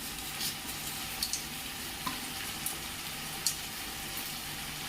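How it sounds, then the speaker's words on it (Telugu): Coriander, mint and whole spices such as cinnamon, cloves, cardamom and bay leaf frying in hot oil for paneer biryani, a steady close sizzle with a few soft crackles and pops. "ఇది మంచిగా బాగా ఫ్రై చేసుకోవాలి"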